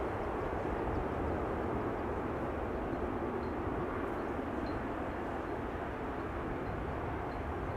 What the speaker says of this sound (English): Nippon Cargo Airlines Boeing 7478 will soon appear.